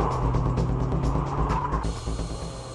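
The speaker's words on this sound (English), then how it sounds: "Here is a demo run by Tsuchiya in a nicely tuned S14 Silvia" A tuned Nissan S14 Silvia drifts on a demo run, engine note and squealing tires blending into a loud continuous roar that eases off near the end.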